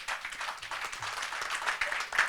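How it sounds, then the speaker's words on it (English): A conference audience applauds a panel in a brief, dense burst of many hands clapping, fairly close and steady, swelling slightly toward the end. "I would like you to give a hand and to applaud the panel"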